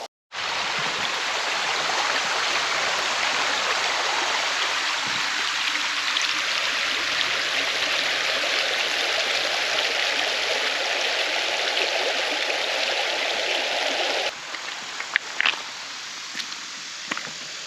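Creek water flows steadily and close by, a continuous broadband rush along a creek bed, with no talking. Near the end it thins into a lighter trickle with a few small splashes.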